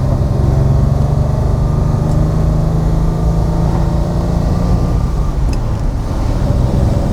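A 1966 Ferrari 330 GTC with its 300 PS V12 drives along, giving a steady, loud, low engine drone and road rumble that continues unbroken throughout.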